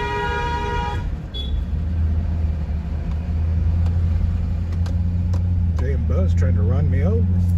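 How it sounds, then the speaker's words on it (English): Bus driving close by in heavy street traffic in Davao, a steady loud engine rumble with a horn tooting early on, and a person talking over the noise. "Bus trying to run me over."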